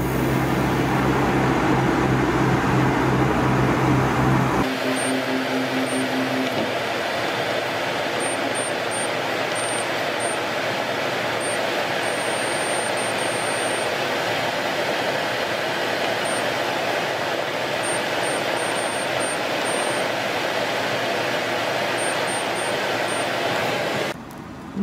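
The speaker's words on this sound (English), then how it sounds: "this should give you an idea of how strong the exhaust fan is here on the side while running" A dehumidifier's side exhaust fan drones steadily for the whole stretch, a constant airy whoosh with a faint tonal hum, after a brief louder mechanical rumble at the start.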